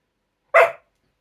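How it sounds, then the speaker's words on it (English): A single short dog bark, loud and close, bursting out of silence in a home setting. "Sorry about the barking."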